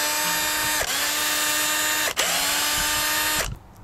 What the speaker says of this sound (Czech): teď potřebujeme 25 Torx, aby jsme tady sundali 3 Torxy a osička můžeme.